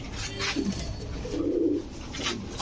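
Imported fancy pigeons coo softly nearby at a farm in a few low, throaty bursts over a faint background murmur.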